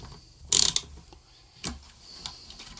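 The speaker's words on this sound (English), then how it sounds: "Now I've turned it over, just need to undo these nuts on the front of the tuners." Metal tuner nuts on a Squier guitar headstock being undone with a driver: a short burst of quick ratcheting clicks near the start, then a couple of isolated faint clicks and taps in quiet surroundings.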